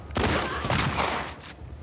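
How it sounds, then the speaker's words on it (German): A rapid volley of gunfire cracks out in The Last of Us Part II, several close, loud shots in quick succession with no talking. "Hat aber noch einer geschossen hier irgendwo"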